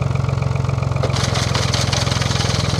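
A tractor engine on a Portuguese farm chugs with a steady pulsing beat while driving a PTO-powered ground cutter, which adds a brighter whirring clatter partway through; close and loud.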